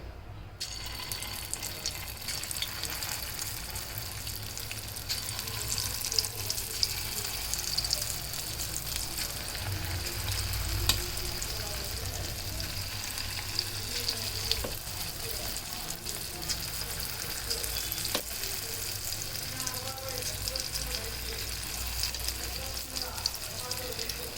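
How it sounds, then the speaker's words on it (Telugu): Small pieces of gaaralu dough dropped into hot oil give a soft, continuous frying sizzle at moderate distance, with faint kitchen clatter and occasional water-like noise, and no clear talk. "ఆయిల్ హీట్ అయింది ఫ్రెండ్స్ చూడండి హీట్ అయ్యాక వీటిని చిన్న చిన్నగా వేస్తున్నాను"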